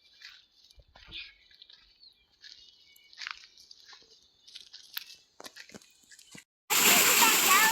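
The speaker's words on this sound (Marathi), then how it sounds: "ज्ञानदा पाण्याचा फुल आनंद घेत आहे." A small child splashes in water outdoors in the countryside. Faint, scattered chirps and small sounds come first, then a sudden loud, close burst of splashing and rushing water fills the final second.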